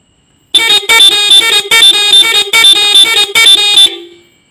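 A Hero Glamour motorcycle's three-horn setup honks loudly in a rapid series of short repeated blasts, close and alone, ending with a final held tone that fades out.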